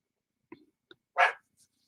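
A dog gives a few quick close yips followed by one louder bark, and then there is silence.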